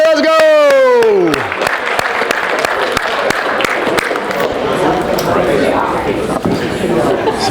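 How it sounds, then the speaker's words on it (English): An audience at a motivational training session applauding, scattered sharp claps and crowd chatter following a loud drawn-out vocal whoop at the start, with people talking and laughing over the clapping. "Give yourselves a round of applause."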